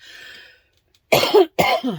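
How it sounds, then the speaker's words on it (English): Two sharp coughs in close succession after a brief stretch of faint hum and silence, loud and near. "Sorry, apparently the coughs are going to come back."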